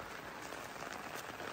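Heavy monsoon rain falls steadily in the Konkan countryside near a pond, a dense, continuous hiss of downpour at an even, moderate level with no pauses.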